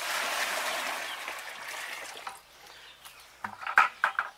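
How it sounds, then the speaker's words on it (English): Fresh water is dumped from a container over smokehouse deer meat, a loud rushing pour for about two seconds that tapers to trickles, followed by a few light knocks and clatters. "let me dump this fresh water over in here"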